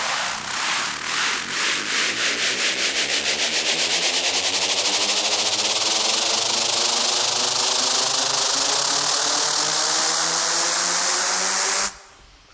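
Synth riser built in Vital: a repeating note pulses faster and faster until the repeats blur into a near-continuous buzzing tone, pitch bands climbing steadily, loud and alone, cutting off abruptly at the end.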